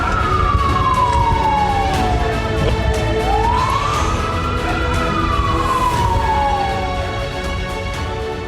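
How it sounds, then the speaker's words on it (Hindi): A wailing war siren sounds in Israel during an Iranian missile attack, its loud tone sliding down, rising again and falling steadily over a dense, constant background din. "इजराइल में वॉर सायरन बजने"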